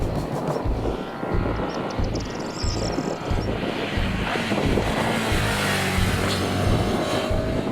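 Suzuki SV650 2016 motorcycle engine running with a steady, throbbing low rumble and gradually shifting revs, moderately loud with wind and road noise over it, no speech.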